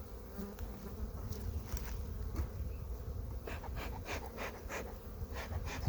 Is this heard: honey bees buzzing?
yes